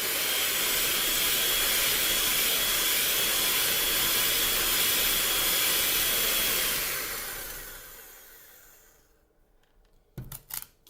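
An electric mixer whips egg whites for a lemon meringue pie, a loud steady whirring hiss lasting most of the time before winding down to quiet, followed by a couple of brief knocks at the end.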